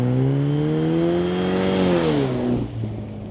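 Ford Ranger engine revving hard through an AWE dual-exit cat-back exhaust, rising in a loud, smooth, building roar before dropping away abruptly near the end, with no voices.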